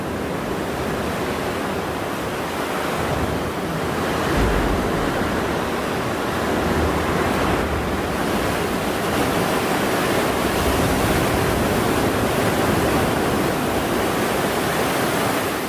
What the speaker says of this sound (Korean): 뭔가 무서워 파도 소리가 엄청 울려가지고